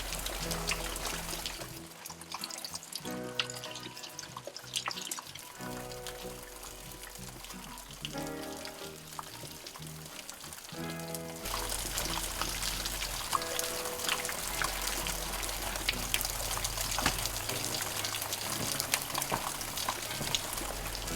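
Stream water being collected in the wild, gurgling and trickling close by, with a shift partway through to a steadier, fuller pouring rush; no one speaks over it.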